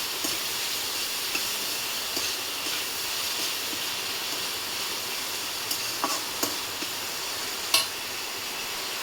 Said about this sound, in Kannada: ಸೊ ಇವಾಗ ಟೊಮೆಟೊ ಹಾಕ್ತಿದ್ದೀನಿ, ಇದು ಕೂಡ ಒಂದ್ಸಲ ಚೆನ್ನಾಗಿ ಮಿಕ್ಸ್ ಮಾಡ್ಕೊಳ್ಳಿ.